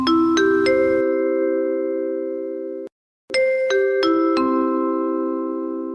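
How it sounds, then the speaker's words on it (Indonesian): An electronic school chime marks the end of the school day at a school musical drama: two loud multi-tone ding-dong sequences with long ringing decays, separated by a short gap, no voices. "bel tanda pulang sekolah berbunyi"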